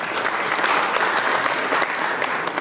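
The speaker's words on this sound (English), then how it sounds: "let's give her another clap." Audience at an agroecology conference applauding a presenter, a dense, steady burst of clapping from many hands that fills the whole stretch without pause.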